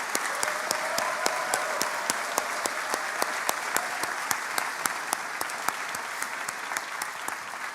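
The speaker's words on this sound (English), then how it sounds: "A huge round of applause for the love and support" A large commencement audience at a medical school graduation applauds the graduates' families, steady dense clapping with a few sharp individual claps standing out, moderately distant and sustained throughout.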